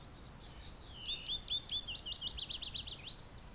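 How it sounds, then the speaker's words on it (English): A wild bird in early spring sings a rapid series of high, bright chirps and trills, moderately close and clear over faint outdoor background hiss, with no voices. "And I have another bird back here."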